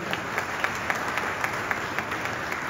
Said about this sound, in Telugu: వాళ్ళని ఉత్సాహపరుస్తూ ఇంకొకసారి గట్టిగా చప్పట్లు కొట్టండి